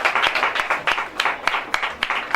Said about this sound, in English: A round of applause while he stands up.